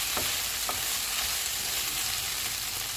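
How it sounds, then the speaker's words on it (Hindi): Soy sauce, vinegar and lemon juice cook in a hot pan with capsicum and onion for a chicken fajita sandwich filling, giving a loud, steady, close sizzle that continues without a break throughout. "सोया सॉस, सिरका, नींबू का रस, इनको 3 से 4 मिनट तक पकाएंगे।"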